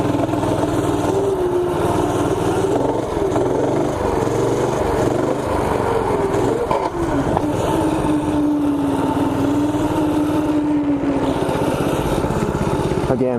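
A torquey minibike engine revving during a wheelie, a loud steady buzzing drone with pitch rising and falling as the throttle is worked, heard close the whole way through with a voice partly under it.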